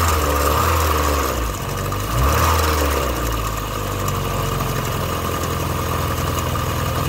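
A Volkswagen Golf 2 GTI 16v petrol engine idles steadily while warming up after a restart, a loud, close, continuous rumble with a slight wobble and no talking.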